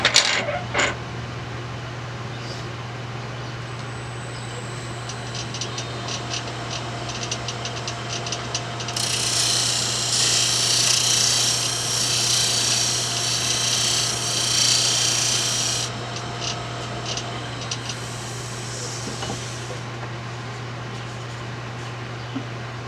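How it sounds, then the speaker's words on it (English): A steady electric hum underlies a loud, hissing abrasive sanding sound on wood, running for several seconds, then returning briefly in a shorter burst. "and then we'll do some sanding."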